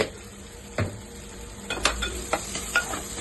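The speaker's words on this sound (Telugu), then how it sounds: "బాగా మిక్స్ చేయండి దాన్ని కూడా మిక్స్ చేయండి" Chili powder is stirred into hot oil for a dried prawn gongura curry, the spoon scraping and tapping the pan a few times over a steady close sizzle.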